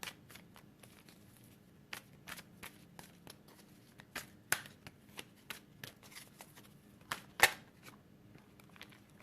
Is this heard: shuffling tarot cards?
yes